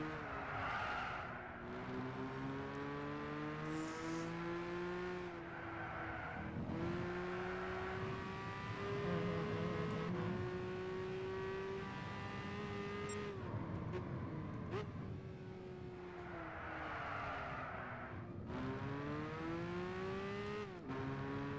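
Classic race cars in Gran Turismo 6 whine and rev through corners, engine pitch rising and falling with gear changes, mixed with tyre skids and other cars passing close by.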